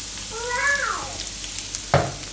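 Whole spices, including cinnamon, bay leaves and dried red chilli pieces, hit hot oil with a soft sizzle, joined by a short falling whine and a sharp clatter near the end.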